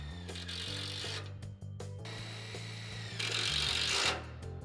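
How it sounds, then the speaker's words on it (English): A power drill drives bolts through a dock leveler seal track into the dock, its motor whirring in sustained runs with brief pauses and a shift in pitch as each bolt seats. "drill the bolts through the track into the dock using a power drill or impact drill"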